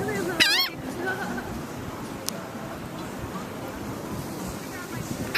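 Birds being fed by hand give a sharp burst of squawking calls near the start, then scattered faint cries under background noise while people talk nearby.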